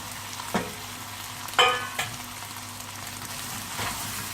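Chicken for a Chinese-style sweet and sour dish fries in a pan with a soft continuous sizzle. A few brief louder bursts come from stirring. No speech.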